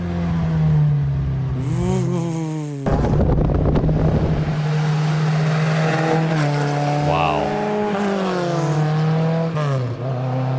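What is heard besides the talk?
rally car engine revving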